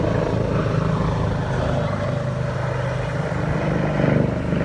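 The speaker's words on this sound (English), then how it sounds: "There's a damn airplane." An airplane flying overhead makes a steady, loud, low roar that fills the whole stretch outdoors and swells slightly near the end, with no talking over it.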